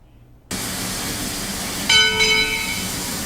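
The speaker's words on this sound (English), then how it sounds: "Locomotive number 10, 95 years old and still making steam, is ready to roll down the tracks again" A 95-year-old steam locomotive, engine number 10, is rolled out of its barn with a steady hissing rumble; a bright, ringing whistle-like tone sounds briefly near the middle, then fades back into the broad noise.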